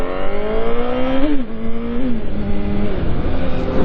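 A Yamaha R1 motorcycle accelerates hard at full throttle in a street race, its engine note climbing loudly through gears with brief dips at shifts, close and continuous.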